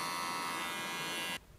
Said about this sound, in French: une tondeuse à cheveux